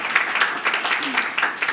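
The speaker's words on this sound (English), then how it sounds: "So let's give a great applause to Laurina." An audience at a project closing conference applauds Laurina, a short burst of moderate clapping from a small crowd with a faint voice underneath.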